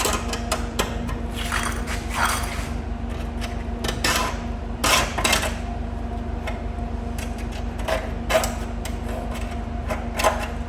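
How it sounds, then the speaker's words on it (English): A deburring tool scrapes and clicks along the trimmed edge of a steel repair panel on a Mazda MX5 MK1 under rust repair, giving irregular close ticking and rasping strokes over a steady hum. "we're going to deburr and take all the rough edges off"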